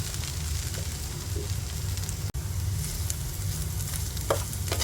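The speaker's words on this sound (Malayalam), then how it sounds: "നാളികേരം ചേർത്ത് നന്നായിട്ട് യോജിപ്പിക്കാം" Grated coconut being stirred into a drumstick thoran in a hot pan, with a continuous sizzle and faint scraping of the spoon, steady and close.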